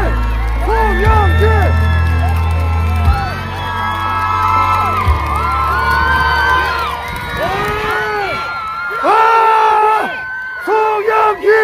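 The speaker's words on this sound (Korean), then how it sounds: "힘찬 박수 부탁드리겠습니다." A crowd at an outdoor Democratic Party rally by the Han River for a Seoul mayoral candidate erupts in loud cheers, whoops and chanted shouts in repeated waves, with a low hum underneath at the start.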